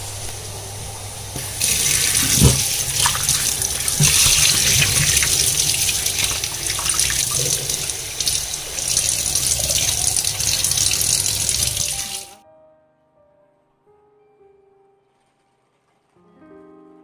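A household tap runs water for about twelve seconds while a money plant's water is changed, a loud close steady splashing that then stops abruptly, leaving quiet with faint tones.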